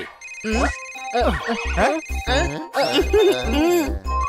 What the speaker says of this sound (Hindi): किटी का फोन आया है।